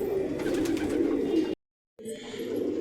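Pigeons coo close by in a steady, continuous murmur that cuts out briefly, then resumes.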